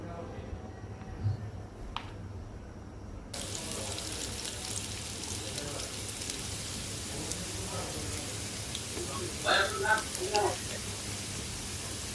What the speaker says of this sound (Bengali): বেগুনটাও ভাজা হয়ে গেল উঠিয়ে নিব এখন আলুগুলো ভাজবো